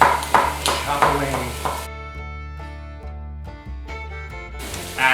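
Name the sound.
chopping celery with a knife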